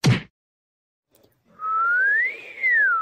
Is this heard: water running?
no